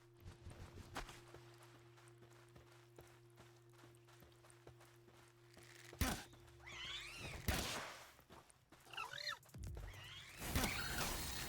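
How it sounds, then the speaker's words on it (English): Cats meow repeatedly in a video game, several wavering cries rising over a steady low hum and soft footstep-like ambience, with louder bursts later in the stretch. "Well, there's just cats everywhere."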